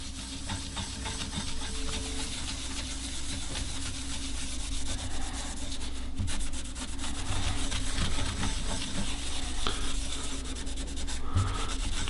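Blue stain being rubbed into flame ash wood with a cloth: a steady soft scrubbing hiss, continuous and close, with a few faint knocks and no talk.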